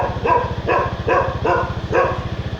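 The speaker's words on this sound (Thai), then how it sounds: "มาเห่ามาเห่า" A dog barking in a village lane, five sharp barks at an even rhythm, close and loud, over a steady low engine-like hum.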